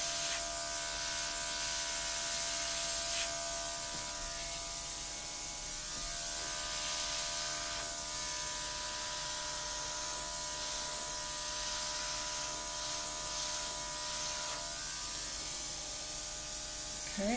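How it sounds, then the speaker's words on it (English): An airbrush air compressor runs in a steady, continuous electric hum and buzz with a faint hiss, unchanging throughout and heard alone at a moderate level. "I'm going to turn off the compressor for a bit."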